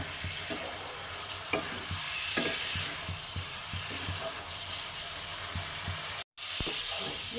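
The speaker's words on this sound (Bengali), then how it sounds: "তেলটা না ছাড়বে তত সময় পর্যন্ত কষিয়ে যাবো এটা" Spice masala cooks down in oil for a rohu fish curry. A steady moderate sizzle runs throughout, broken by repeated spatula stirs and scrapes against the pan and a brief gap near the end.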